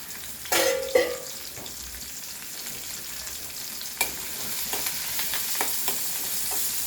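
Onions, garlic, shallots and curry leaves frying in coconut oil, a steady close sizzle broken by a few sharp spatters and stirring clatters, with no talk.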